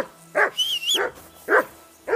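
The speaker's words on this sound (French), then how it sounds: "Henri, rappelle ce satané clébard avant qu'il ne dévore toute la viande" Dog barking in the medieval game Kingdom Come: Deliverance II, three or four sharp close barks spaced about half a second apart, with a high whine between them.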